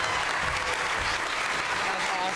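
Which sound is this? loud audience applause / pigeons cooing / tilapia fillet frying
loud audience applause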